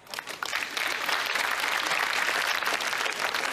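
A crowd breaks into sustained applause, rising quickly after a brief moment and continuing steadily at full strength to the end.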